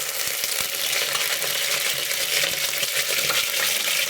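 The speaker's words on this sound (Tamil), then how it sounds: "லவங்கம், பட்டை, கொஞ்சோண்டு சோம்பு போட்டுக்கலாம். எல்லாம் பொரியட்டும்." Cloves, cinnamon and fennel seeds fry in hot oil with a steady, close crackling sizzle and scattered small pops, heard alone without talking.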